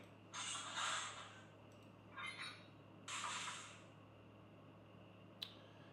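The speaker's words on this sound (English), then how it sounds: "So F3 is going to be your coupler clank." A Rapido SD10 model locomotive sound decoder plays coupler clank effects: three short metallic clanks and rattles spaced a second or so apart, followed by a sharp click, over a faint steady hum.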